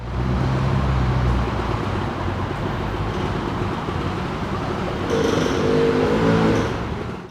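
Steady street traffic rumbles throughout, with cars passing and engines droning, and a heavier vehicle pulling through near the end.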